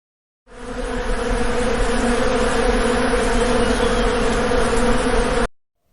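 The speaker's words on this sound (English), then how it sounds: "The bees are buzzing." Bees buzz in a steady, continuous drone that holds at an even loudness from start to finish, with no other sounds.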